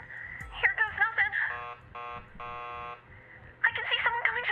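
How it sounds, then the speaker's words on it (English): A door buzzer in the video game Killer Frequency sounds twice in steady electronic bursts, each about half a second long, between stretches of game voices talking. "keep calm and ring the buzzer"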